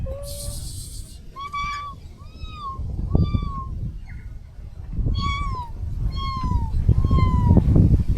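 A cat meows repeatedly, a series of clear rising and falling cries spaced about a second apart, over a rumbling background with people talking nearby.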